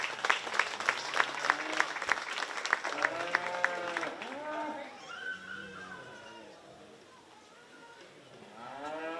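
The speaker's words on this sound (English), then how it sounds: "Let's give these exhibitors another round of applause" Clapping from a crowd at a county fair 4-H beef show rings out for several seconds and fades, while cattle moo loudly nearby during and after it.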